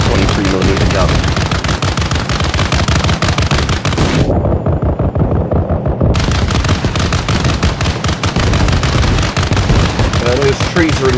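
Rapid, loud bursts from a 23mm gun in a video game, a dense run of sharp shots that breaks off for about two seconds, then resumes and continues to the end.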